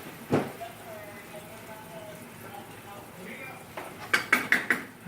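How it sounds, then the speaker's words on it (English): A spoon stirs cilantro rice in a cooking pot: after a quiet stretch with a single knock, a quick run of bright metallic clinks and scrapes against the pot's side lands near the end. "Now, all I gotta do is give that a stir."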